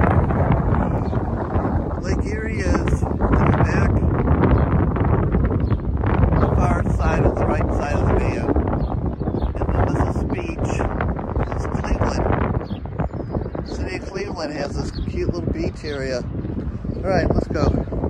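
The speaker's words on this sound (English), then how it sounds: "Here, very windy." Strong wind buffets the microphone in a constant low roar at an open pavilion area near the Corvette Museum, with a voice talking intermittently underneath.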